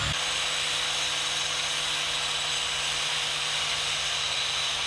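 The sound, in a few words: scoring steel files with a grinding wheel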